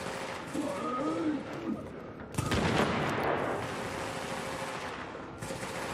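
Dense automatic and rapid gunfire fills a military shooter video game firefight, with sustained bursts and a louder, harsher volley partway through, continuous from start to end.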